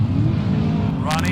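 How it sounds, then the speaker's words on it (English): Drag racing cars launching at the 1971 NHRA Winternationals, a loud, steady engine roar under a commentator's voice, with a rising higher whine as the cars pull away near the end. "See the pro start and the two cars leave."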